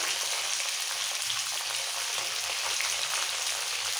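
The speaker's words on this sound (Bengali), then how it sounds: "আলু পেঁপে পটল হালকা ভাজা হয়ে গেছে" Potato, papaya and pointed gourd pieces fry in oil in a pan, giving a steady, even hiss of sizzling that carries on without a break, close and fairly loud, with no voices.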